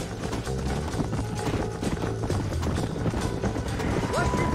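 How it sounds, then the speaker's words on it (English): Horse hooves galloping steadily in Red Dead Redemption, a continuous rhythmic clatter of hoofbeats under busy game ambience, with a brief shout near the end. "Horse!"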